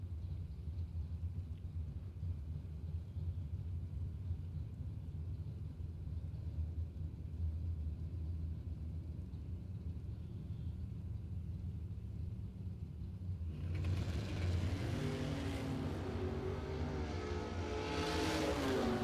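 Drag racing cars at a SuperBucks Showdown event, including a maroon Malibu, rumble steadily at a distance before a sudden loud launch swells into a roaring engine blast for the last few seconds.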